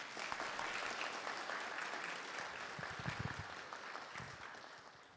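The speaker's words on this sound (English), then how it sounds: "Please give them another round of applause." Sustained audience applause at an engagement ceremony, a dense wash of many hands clapping steadily for about five seconds, heard at a moderate distance.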